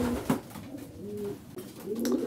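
Racing pigeons in a breeding loft coo softly and repeatedly at close range, with low rolling calls and brief wing or movement noises in between.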